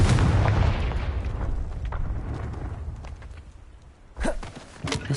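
A Confringo spell explosion in the video game Hogwarts Legacy: a loud, booming blast that fills the start and rumbles away, then a second sharp burst erupts a few seconds later. No voices.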